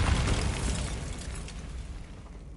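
A Bombarda spell blast in Hogwarts Legacy hits with a loud, dense boom right at the start, then a rumbling burst that gradually fades, with no voices over it.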